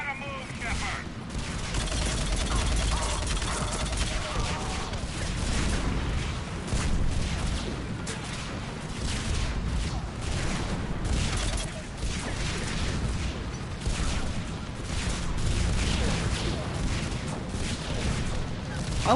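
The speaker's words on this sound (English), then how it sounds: "I don't know where these explosions are coming from." Continuous bursts of gunfire and booming explosions in Mass Effect Legendary Edition fill the scene, dense and loud, with voices occasionally shouting beneath the chaos.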